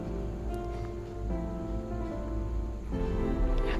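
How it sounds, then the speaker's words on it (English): Rain falls steadily over the hills near Bangalore, a soft continuous wash of drops with no voices. "the rain did not look like giving up"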